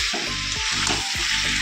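Meat braises in a pan over low gas with a continuous close frying sizzle, broken by a few regular stirring scrapes, with no talk.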